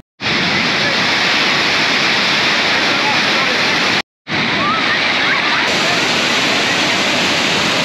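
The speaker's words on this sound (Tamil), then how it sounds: "தண்ணி ரொம்ப அதிகமாக வரனால அந்த திட்டுக்கு மேலே ஓடிட்டு இருக்கு" Pithalaipatti waterfall near Dindigul pouring heavy water over a rock ledge, a loud, close, steady rushing roar with one brief cut partway through.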